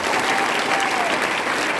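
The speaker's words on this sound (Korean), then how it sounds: "우리 한번 박수 한번 쳐요" A church congregation at a Friday worship service breaks into dense, loud, sustained applause, a continuous wash of clapping from a large crowd.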